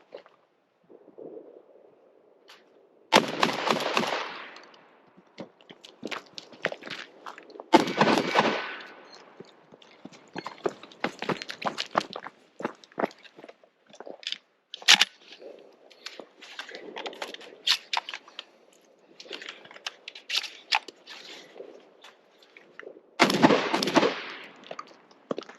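A Benelli M4 shotgun fires on a shooting course, with several loud, sharp blasts spread out over the span and clattering handling and movement noises between the shots.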